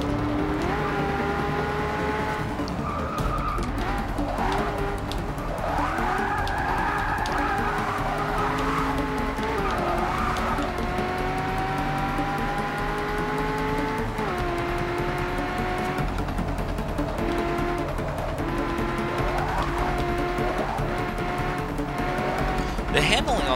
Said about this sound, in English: But we get plenty of exhaust volume now.